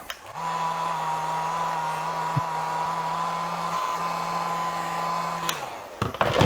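A heat gun blows a steady, loud whir with a constant tone, aimed at the edge of a piece of scrap plastic. It runs for about five seconds, then cuts off and a few handling clatters follow.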